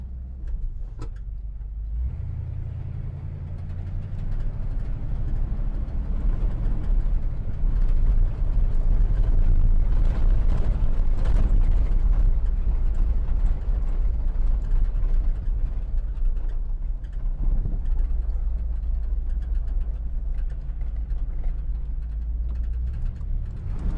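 A 1977 Dodge Club Cab shortbed half-ton 4x4 pickup with a factory 440 engine drives along with a steady, deep low-frequency rumble from the big V8 that builds slightly and then holds, heard from inside the cab with no talking.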